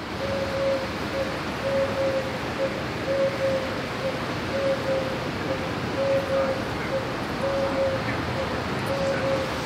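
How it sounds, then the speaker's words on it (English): Outdoors, a bird repeats a short, tonal cooing or whistling call at a steady rhythm, clear over a constant soft wash of background noise like distant surf or wind. "can you hear the birds?"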